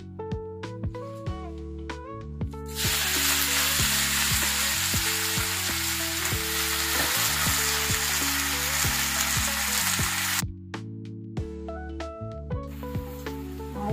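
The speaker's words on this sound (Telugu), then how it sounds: "గోంగూర ఫ్రై చేసుకోవాలి." Gongura (sorrel leaves) fry in hot oil in a pan, a loud, steady broadband sizzle that sets in after a few seconds and cuts off near the end, with music playing throughout over it.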